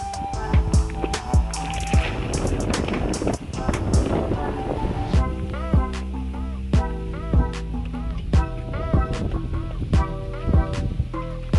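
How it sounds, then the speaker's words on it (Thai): Strong wind buffets the microphone at a campsite in Khao Kho, a steady loud roar full of rumble. Irregular clicks and rattles, likely a flapping tent, run through it. "ลมพัดแรงมากๆเลยค่ะ"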